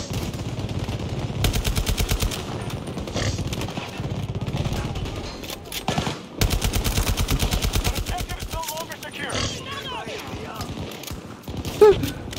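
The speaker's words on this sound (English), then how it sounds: "I put down a turret up here, and the turret is shooting down on him." A deployed automatic turret in Battlefield 2042 fires down at an enemy in fast, evenly spaced bursts, loud and close, in two long volleys, with a person talking in between.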